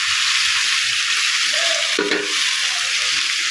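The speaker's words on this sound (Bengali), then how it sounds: "ভালোভাবে মাংসটা কষিয়ে নেব তারপর টমেটোটাও দিয়ে দেবো" Beef sautéing in a pan, with a steady loud sizzle throughout and a brief burst of stirring scrapes midway; no one talks.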